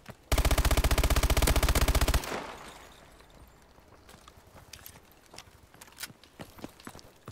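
A loud burst of rapid automatic gunfire in Call of Duty: Advanced Warfare lasts about two seconds, followed by quieter scattered clicks and thuds.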